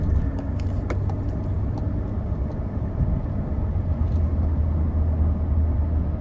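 A car with an automatic transmission, freshly treated with transmission fluid additive, drives at operating temperature with a steady loud engine and road rumble from inside the cabin, the engine note rising and easing slightly as it shifts.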